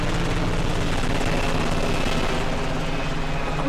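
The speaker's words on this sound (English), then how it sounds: "Oh, some helicopters." Several black military helicopters flying overhead, a loud steady rotor and engine drone that fills the whole stretch without letup, with no talk over it.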